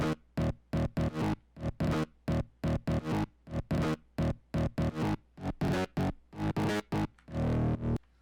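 A single electric guitar note heavily processed into gritty synth-like EDM bass stabs in a choppy rhythmic pattern, loud and pulsing, ending in a longer sustained distorted hit.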